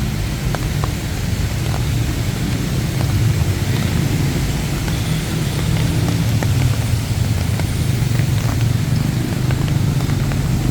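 Rain falls on a Bangkok street as a steady, loud broadband wash, with scattered sharp drops ticking close by throughout.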